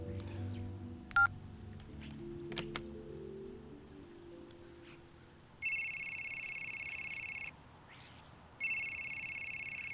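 Telephone ringing: two long electronic ring bursts separated by a short gap, heard after a few seconds of quiet background with faint music.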